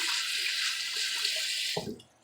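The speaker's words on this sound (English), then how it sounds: "put my cutting board here in the sink. Rinse it off and rinse off my hands" Tap water runs into a kitchen sink while a cutting board and hands are rinsed, a close, steady rushing stream for about two seconds that stops with a brief splash.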